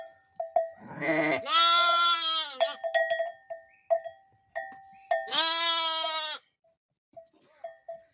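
Two long, loud sheep bleats ring out close by, separated by a pause, with a faint bell clinking in the background.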